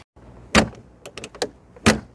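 The red hood of a Fiat (FSO) 125p is lowered and shut. Two loud, close metallic thuds come about a second apart, with softer clicks and rattles between them.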